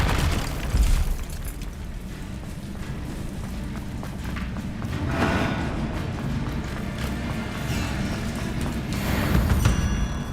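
Deep booms from a Bombarda blasting spell in Hogwarts Legacy thud out against a continuous rumble of game ambience, with a sharp burst near the start and more explosive swells later.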